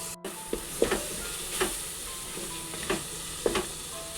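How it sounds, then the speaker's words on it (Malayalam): Spice powders sizzle in a hot pan for kappa biriyani while a utensil stirs them, with soft scraping knocks every half second or so over a steady frying hiss. "നല്ല പോലെ ഒന്ന് ഇളക്കി നമുക്കൊന്ന് വാട്ടിയെടുക്കാം"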